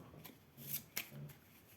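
Game cards for the Bardsung board game shuffled by hand at a table, a few quiet riffling bursts with soft clicks, close and low in level, no talking.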